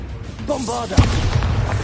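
A Bombarda spell goes off in the video game Hogwarts Legacy as a single loud, close blast. A short magical shimmer runs just before it, and a rumbling tail follows.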